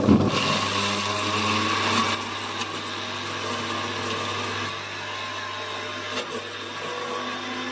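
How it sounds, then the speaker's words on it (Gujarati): A mixer grinder grinds chillies with a steady, loud motor whir and a constant low hum, running continuously close by with no talking. "આપણે આ મિક્સરમાં દળી નાખીએ મરસા."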